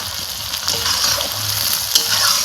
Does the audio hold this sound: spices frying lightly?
yes